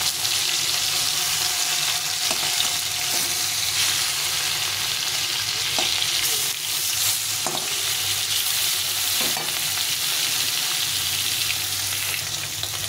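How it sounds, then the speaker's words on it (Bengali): Rohu fish pieces sizzle loudly in hot oil in a pan while being turned over, a constant close crackle broken by a few soft knocks and scrapes of the spatula, with no voices. "মাছগুলো ভাজা হয়ে গেছে, লাল লাল করে ভেজে নিয়েছি।"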